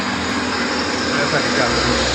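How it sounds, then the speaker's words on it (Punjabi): A VF 5 kW water pump motor running in a village, a loud, steady, unbroken mechanical drone with a broad whooshing roar, with people talking over it. "ਚੱਲਦੀ ਵੀ ਸਾਡੀ VF ਦੀ 5 ਦੀ ਮੋਟਰ ਹੈ"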